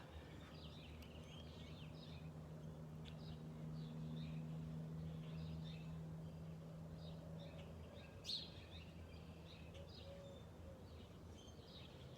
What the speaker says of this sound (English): The birds are chatty.